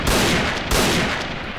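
Dense gunfire from the first-person shooter Point Blank, a loud, continuous rattle of overlapping shots with two sharper bursts standing out, no voices.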